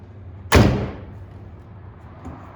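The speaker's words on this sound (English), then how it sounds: "So now you'll be able to close it, and right here will latch on." The hood of a Ford Edge is pushed shut, giving one loud close thud with a brief metallic latch, followed by a fainter knock near the end.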